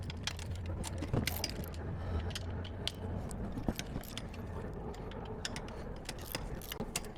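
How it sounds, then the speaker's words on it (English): Rapid metallic clicking and ratcheting of a 9/16 wrench loosening bolts on an RV tongue jack, a continuous run of close, small ticks and jingles over a low background rumble. "the first thing we're going to do is just loosen the bolts on the tongue jack here"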